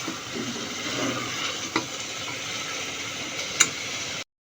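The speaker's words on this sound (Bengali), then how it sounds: "আমি টাইম নিয়ে 5 থেকে 7 মিনিট মশলার সাথে নিহারিটাকে কষিয়ে নিচ্ছি।" Beef nihari frying with spices in a pan, a steady sizzle with a couple of sharp spatula scrapes, continuous until it stops abruptly.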